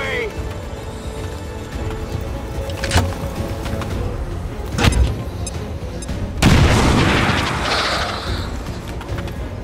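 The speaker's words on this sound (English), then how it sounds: "Bombs away." Bombs go off in XCOM 2, several deep booming blasts spaced across the stretch, the last one heavy and rumbling, with voices talking over the noise.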